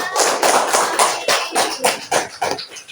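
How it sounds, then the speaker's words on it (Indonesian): A small group claps hands in a quick, uneven burst of applause, loud and close, lasting a few seconds with no voices. "Tepuk tangan untuk Ibu ya"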